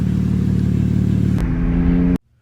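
A BMW M4 engine with new downpipes revs hard with a loud, throaty exhaust, shifts to a lower rumble, then cuts off abruptly.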